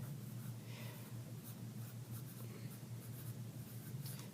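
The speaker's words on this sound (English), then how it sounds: "let's go ahead and write E-drop next" Pen or pencil writing on paper during a spelling review lesson, a faint steady scratching of strokes with soft repeated taps, close but quiet over a low constant background hum.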